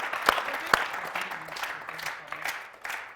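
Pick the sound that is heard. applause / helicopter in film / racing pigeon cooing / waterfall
applause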